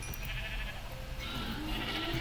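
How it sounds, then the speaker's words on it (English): Plague sheep from a Minecraft horror add-on bleat in two wavering calls over a steady hum of game background noise. "Plague sheep."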